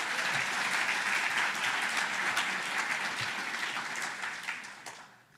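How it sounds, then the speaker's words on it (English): Loud, full applause from a luncheon audience at a city's State of the City event, for the police department, dense and steady before fading out near the end. "let's give a round of applause for our police department"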